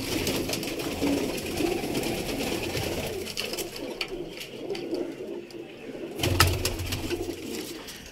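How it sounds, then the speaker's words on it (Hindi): Pigeons in a loft cage coo in soft, repeated murmurs close by, with occasional wing rustles and shuffling. "ये देखें सारे माशाल्लाह कबूतरों को देखें।"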